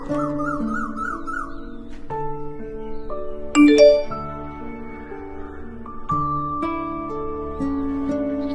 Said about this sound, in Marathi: कोणाचा तरी मेसेज आलाय बघ।